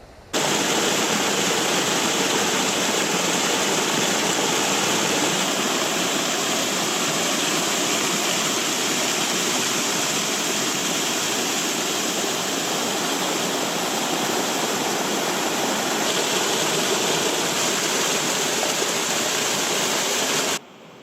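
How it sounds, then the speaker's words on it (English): The Inver River rushing through Glenariff Forest Park, a loud, steady broadband roar of flowing water heard up close and unbroken, with no voices. "I'm following the Inver River up through Glenariff Forest Park up onto the open hillside"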